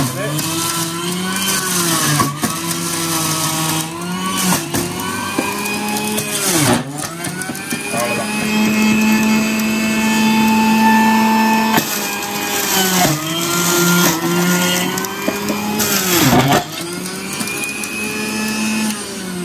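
An electric juicer whirs loudly as whole, unpeeled carrots are fed in, its motor pitch dipping and recovering under load several times over about twenty seconds.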